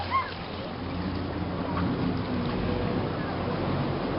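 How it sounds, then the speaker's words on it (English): The low, steady engine drone of an amphibious duck tour boat churns beneath rushing, splashing river water, with a faint voice briefly heard at the start. "hear the engines kicking up, kind of right underneath us and behind us."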